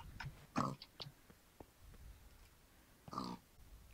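Short, gruff video game pig grunts in a few separate bursts with quiet gaps between, close and fairly soft.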